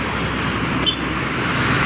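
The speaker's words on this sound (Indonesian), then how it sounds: "Bus lagi nih." Bus traffic on a busy road at Palembang's Sukarno-Hatta area, a steady broad roar of passing vehicles close by with no distinct horn, lasting under two seconds.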